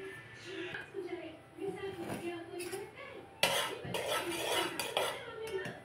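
Steamed idli being taken out of a pot in a home kitchen, with metal spoon scrapes and clinks against the steamer plates, close and intermittent, while someone talks over the clatter.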